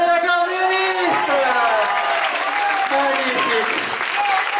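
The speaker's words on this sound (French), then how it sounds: "Applaudissez l'accordéoniste." Applause for an accordion player at a 2014 live show, a steady wash of clapping heard alongside a sustained voice or melodic tones that glide and waver over it.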